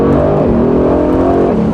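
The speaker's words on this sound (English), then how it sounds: "I just love the sound of that exhaust with the top up and the top down" Exhaust of a 2021 Mercedes-AMG GT Roadster Stealth Edition, top down in sport mode, a loud close engine note sweeping in pitch as it downshifts, with no talk over it.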